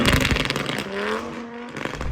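A stage 4 Audi RS3 making over 800 hp revs hard in a drag run, its engine note rising and falling loudly and close by, with a whining pitch sweep and a sharp burst at the end.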